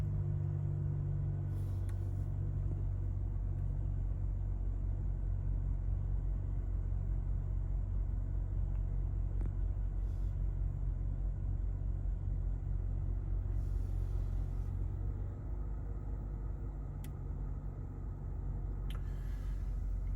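A 2017 BMW 640i Gran Coupe idles after a cold start that followed an overnight sit, a low, steady engine rumble holding evenly for about twenty seconds with no talking.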